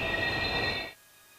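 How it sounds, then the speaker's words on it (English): Train brakes screeching hard in a video game scene, Steins;Gate Elite: a loud, sustained metallic squeal over a rumbling roar that cuts off abruptly after about a second, leaving quiet. "Sparks fly as the train slams on its brakes."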